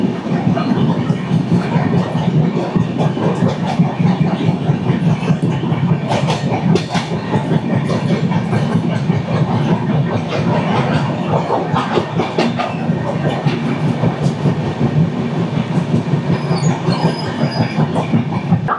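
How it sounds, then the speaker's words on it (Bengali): The Vivek Superfast Express from Dibrugarh to Kanyakumari runs past on the rails, a loud, continuous rumble of wagons with rhythmic clickety-clack of wheels over joints and brief high squeals, close and sustained throughout. "22504, ডিব্রুগড় থেকে কন্যাকুমারী বিবেক সুপারফাস্ট এক্সপ্রেস"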